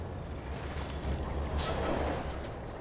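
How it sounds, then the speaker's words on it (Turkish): Vehicle arriving in Call of Duty Modern Warfare Remastered: a low engine rumble under steady ambient noise, with a hiss of air near the middle, at moderate loudness. "Araba geldi dur."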